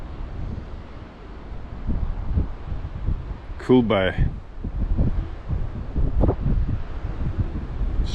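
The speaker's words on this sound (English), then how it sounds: "Pretty wild and windy day today" Strong northwest wind buffets the microphone in low, gusty rumbles throughout at a coastal tidal pool near mountains, with a brief voice speaking partway through.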